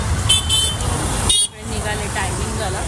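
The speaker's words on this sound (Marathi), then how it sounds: "तेवढी गरज हॉर्न द्या सगळ्यांना." A car horn honks twice in busy street traffic, with loud road and engine noise all around before a brief lull.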